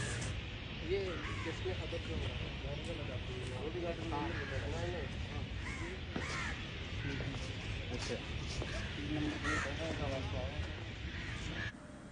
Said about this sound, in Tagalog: naririnig nyo ang mga ibon, napakaingay nila